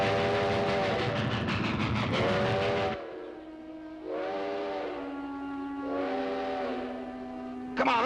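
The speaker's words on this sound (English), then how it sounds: "We gotta flag down a train." A steam train passes in a 1950s Western drama, its chugging rumble giving way to several long, loud whistle blasts with short gaps between them.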